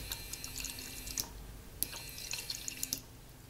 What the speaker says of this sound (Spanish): Presionas el interruptor e inmediatamente veremos que sí empieza a bombear el agua.